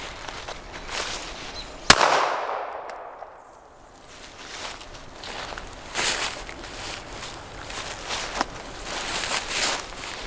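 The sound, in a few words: Ruger LCP Max .380 pistol shot into pumpkins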